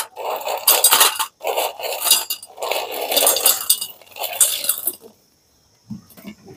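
Crisp homemade chira kurkure poured into a large bowl makes loud rattling, clinking cascades in several bursts, then stops into near silence with one faint knock.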